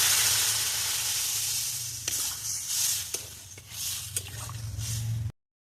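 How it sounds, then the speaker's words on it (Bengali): Fish curry sizzles steadily in a pan during sautéing, with several sharp clicks and scrapes from stirring over the frying hiss and no talk. "এবার আমি ভালো করে এটাকে কষে নেব"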